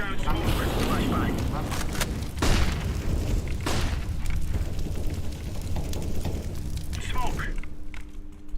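Flashbang grenades and other explosions booming in a tactical shooter video game, several heavy thuds and cracks spread across the clip amid constant battle noise, with voice callouts heard over the action.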